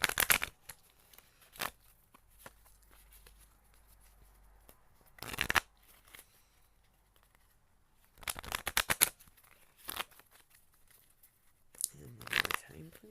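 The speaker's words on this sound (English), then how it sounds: "I'm going to pull a couple clarifier cards for the Four of Swords." Tarot cards shuffled in several short bursts of riffling and flicking, separated by quiet pauses, close and fairly soft, with no one talking.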